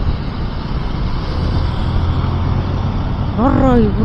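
Road traffic on the way to Velliangiri near Coimbatore, heard from a moving bike, makes a steady broad roar of engines and road noise, with a brief horn blaring near the end.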